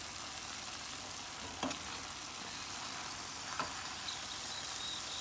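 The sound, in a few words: stirring Guyana hassa fish curry in a pan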